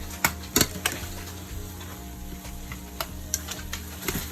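Shepherd's pie filling sizzles in a pan as a spoon stirs it, with a steady frying hiss and a few sharp clacks of utensil against metal, close and alone.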